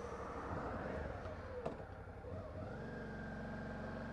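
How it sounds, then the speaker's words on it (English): A Suzuki V-Strom 650 XT motorcycle idles on its standard exhaust with a low, even exhaust rumble, close by and fairly quiet, with a brief sharper knock partway through. "But that's the standard exhaust for you."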